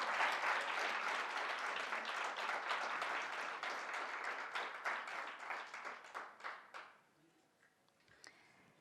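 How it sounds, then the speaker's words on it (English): An audience at a regional meeting gives a dense, sustained round of clapping that thins into a few scattered claps and then fades to near silence. "A round of applause."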